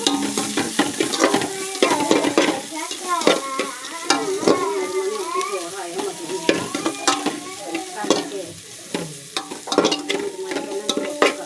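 Ginger, garlic and curry leaves sizzle and crackle in a hot pan for a Kerala-style chempalli fish curry, with steady frying hiss and repeated stirring scrapes throughout, close and fairly loud.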